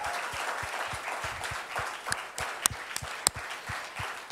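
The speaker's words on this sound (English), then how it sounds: "a thundering round of applause for the verdict, guys" Applause from an audience at a book launch event, a steady wash of many hands clapping at moderate distance, with a few sharper louder claps standing out near the end.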